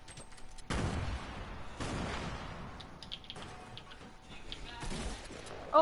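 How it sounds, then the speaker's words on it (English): Grenade explosions in the Fortnite battle royale game, several broad booming bursts spaced a second or more apart, fairly distant and moderately loud over a continuous rumbling game background. "I'm gonna throw some grenades up on top."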